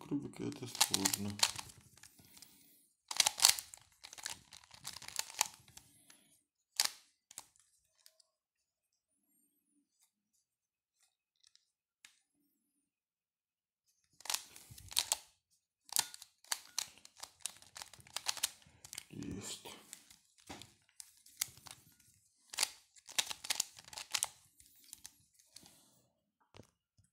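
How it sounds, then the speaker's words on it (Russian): A Rubik's cube is turned in bursts of quick plastic clicks and rattles, with a long pause in the middle before the rapid twisting resumes. A person talks nearby. "параллельно складывать кубик Рубика"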